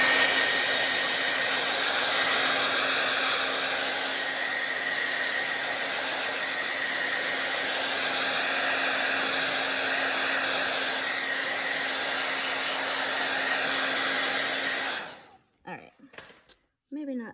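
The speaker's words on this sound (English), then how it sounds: "I'm going to blast mine with a blow dryer just so I can move on." A blow dryer blasts steadily for about fifteen seconds while drying paint on a canvas, a loud continuous whooshing whine with a steady hum, then cuts off abruptly, leaving brief faint rustles.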